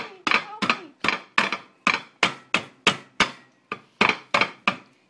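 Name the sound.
crushing almonds in a pot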